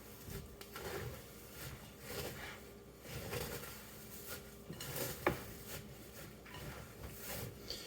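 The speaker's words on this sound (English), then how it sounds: "let's go ahead and mix this up" Hashbrown casserole ingredients being mixed in a bowl, giving repeated soft scraping and knocking of a utensil against the bowl in an uneven rhythm, close by with a sharp clink near the middle.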